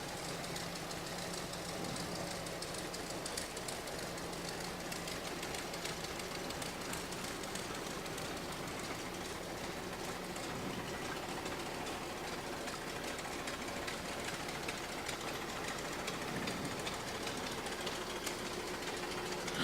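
Old farm tractors roll along a town parade route, a faint, steady mechanical chugging and knocking beneath broad outdoor background noise, with no voices.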